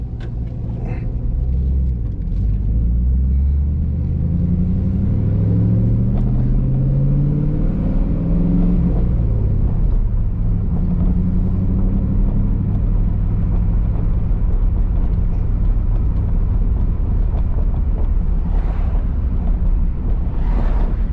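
A Pontiac Trans Am WS6 cruising on the highway at 70 mph, a steady deep engine rumble with road and wind noise from inside the car, the engine note rising and opening up briefly, no talk.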